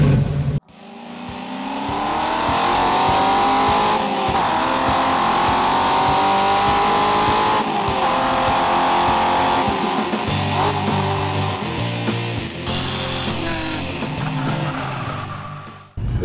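A 1967 Ford Mustang and a 1970 Chevrolet Camaro, both pro touring shop cars, race around an autocross course with loud, close engines revving hard, rising and falling through gear changes, with brief tire noise.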